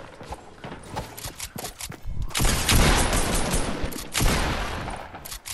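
Gunfire in a Fortnite match, a loose rapid string of sharp shots and impacts, louder in a dense burst midway, close and steady with no clear talk over it.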